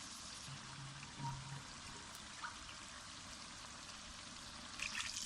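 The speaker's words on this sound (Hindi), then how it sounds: "अब छोले यखनी जो है वो इसमें डालेंगे।" Chickpea stock (yakhni) pours into fried meat in a pot, a soft, steady liquid splashing and hiss that is fairly quiet and continuous, with a few louder sputters near the end.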